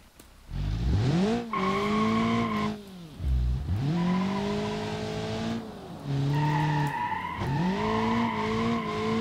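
An Ibishu Covet in BeamNG.drive launches hard, engine rising in pitch through several revving pulls with a brief drop between, tires squealing and skidding, loud and close, no talk over it.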